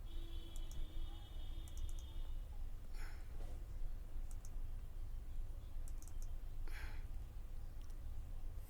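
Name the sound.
computer mouse double-clicking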